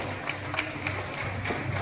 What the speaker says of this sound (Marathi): यांच्यासाठी जोरदार एका टाळ्या व्हायला हव्या